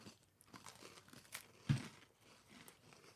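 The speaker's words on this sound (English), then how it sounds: "Excuse our crunching." Oreo cookies dipped in sour cream being chewed up close, with soft, irregular crunching and crinkling and one sharper crunch near the middle, all faint and without talking.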